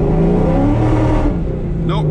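A Corvette C5 on cheap tires launches hard from a dig, its loud engine revving steadily with no traction, a brief squeal near the end, while a voice talks over it.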